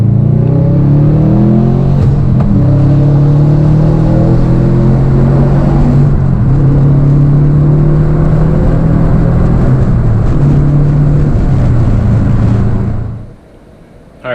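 A car engine revs hard at full throttle for over twelve seconds, loud and close, its pitch climbing through rising harmonics before cutting off abruptly into near silence.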